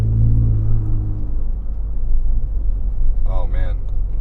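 A truck with a turbocharged EcoBoost engine rumbles low and loud, easing off after a steady drone, while a voice speaks briefly near the end.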